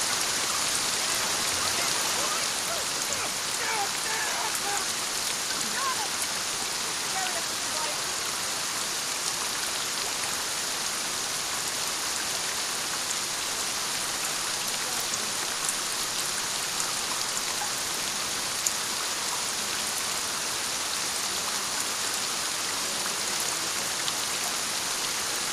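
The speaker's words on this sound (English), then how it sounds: "I feel like this is like a rain bug or something." Steady rain falls in the video game The Last of Us Part II, a constant hissing wash of drops heard alone and unbroken throughout, with no speech.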